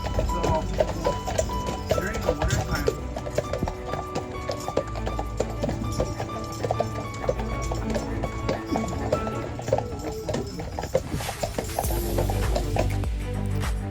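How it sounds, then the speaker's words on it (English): Hooves of a three-horse carriage clip-clop steadily along a road in Mackinac Island State Park, close by, with wheel rumble and faint voices underneath. "Our 3-horse carriage took us through Mackinac Island State Park."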